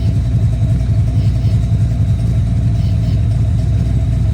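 A V8 engine in a Mazda Miata with a lumpy cam idles loudly and steadily up close, a dense, throbbing low rumble with only slight swells in revs and no speech.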